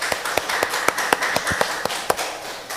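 A church congregation at a Sunday worship service claps in a sparse, rhythmic pattern, a dozen or so distinct sharp claps spaced fairly evenly, close and moderately loud against a quiet room.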